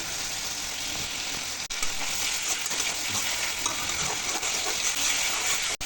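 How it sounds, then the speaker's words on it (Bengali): Water poured into sizzling sautéed spices in a pot while cooking mutton nihari: a loud, continuous close-up hiss and bubbling sizzle with stirring, and brief dips where the sizzle momentarily drops. "কষানো মশলার মধ্যে দিয়ে দিচ্ছি একটু পানি।"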